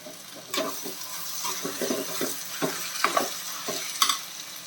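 Chicken with ginger, garlic and masala is stirred in a hot pan, giving scraping spoon strokes and soft sizzling in irregular bursts, close and moderately loud.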